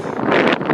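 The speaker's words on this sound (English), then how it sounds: "it's really windy up here" Strong wind roars across an exposed hilltop summit, buffeting the microphone in loud, continuous gusts that swell and ease with no other sound.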